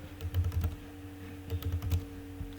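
Two quick bursts of typing on a computer keyboard, close-up clicking keystrokes separated by a short pause, with a faint steady hum underneath.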